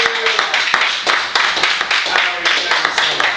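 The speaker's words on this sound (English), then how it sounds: "let's have a round of applause for my main man" A small beach crowd claps for a guest at a live taco night event, loose individual handclaps with a sharp, uneven rhythm, while a voice talks over them.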